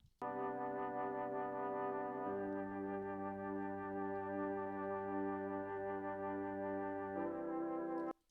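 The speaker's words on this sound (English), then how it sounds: "So it's just a Mellotron sample, an Omnisphere." A sustained, organ-like Mellotron sample from Omnisphere with rich harmonics and a wash of reverb, shifting chords twice before cutting off.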